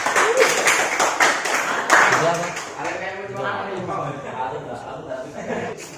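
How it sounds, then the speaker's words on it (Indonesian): Classroom students clap for group 3 after a presentation, with a short burst of scattered clapping at the start that fades while a voice carries on talking over it. "Tepuk tangan untuk kelompok 3"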